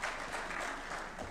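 A brief burst of audience applause for Francis Atwoli at a State House address, a dense, even wash of clapping lasting just over a second.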